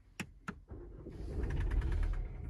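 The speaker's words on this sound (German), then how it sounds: "Und dann können wir durch Drücken auf den Start-Stopp-Knopf hier das Fahrzeug starten." A BMW's keyless Start-Stop button clicks twice, then the engine cranks and catches, rising into a steady, fairly close idle with no talking.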